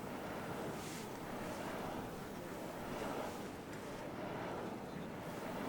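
Steady, roaring wind sweeps across an open mountain ridge at Seonjaryeong in Pyeongchang during a backpacking trip, a loud, continuous broadband rush with gusty swells and buffeting against the microphone throughout.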